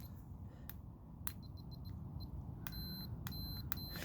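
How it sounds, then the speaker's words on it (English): Several short, faint electronic beeps from a multimeter continuity test on an electric ATV relay sound in quick bursts over a low background hum. "if it's making this beeping noise, then that means that it's passing power"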